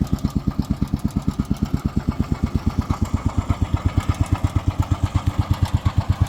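A BMW Isetta microcar engine runs steadily at a fast, even idle. Its small single-cylinder putter throbs loud and close, with no voices over it.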